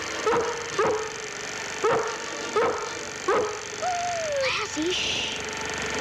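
A German Shepherd police dog barking during training over hurdles gives five sharp, fairly loud barks at uneven intervals, followed by a high drawn-out whine and a few short yelps.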